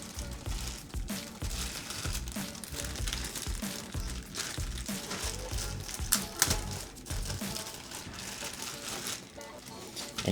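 Packaging is ripped and crumpled off an Akai MPK Mini Plus MIDI keyboard box: continuous close crinkling, tearing and crackling plastic with sharp bursts throughout.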